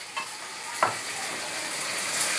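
Potatoes fry in a pan for a raw banana kofta curry, giving a steady close sizzle with a few soft scrapes from stirring, with no talk.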